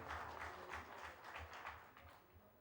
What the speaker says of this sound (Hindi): बहुत बहुत जोरदार तालियां साहब वीरेंद्र जी के लिए